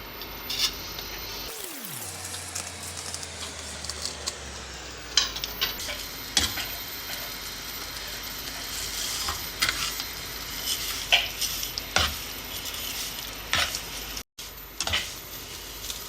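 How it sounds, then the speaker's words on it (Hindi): Vermicelli (sewaiyan) fries and sizzles in a couple of spoons of oil for sheer khurma, with steady crackling and occasional stirring clinks of a spoon against the pan, close and continuous. "इसमें न ये सवैयाँ जो हैं वो हम फ्राई करेंगे।"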